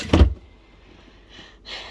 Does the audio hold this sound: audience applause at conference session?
no